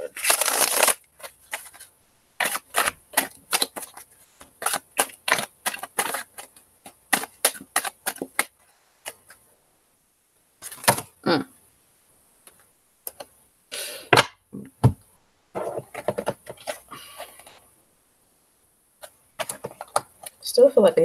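Tarot cards shuffled by hand in a series of quick, papery riffles and snaps, close and fairly loud, coming in irregular bursts with short pauses between them, and no talking over them.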